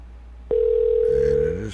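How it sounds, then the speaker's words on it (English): A single long electronic ring tone rises abruptly and holds steady for about a second before breaking off, followed by a faint buzz. "And it is still ringing."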